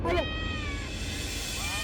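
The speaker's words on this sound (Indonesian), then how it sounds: "Itu tuh nggak taunya cuma kucing." A domestic cat meows in a short, thin cry near the start, followed by a lingering tonal whine over steady low background noise; voices may be present.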